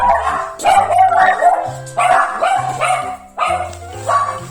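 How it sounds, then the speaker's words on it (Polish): Dogs bark repeatedly and loudly close by, in bursts of several sharp barks with short pauses between. "moje psy nie wytrzymują tego napięcia i już się drą"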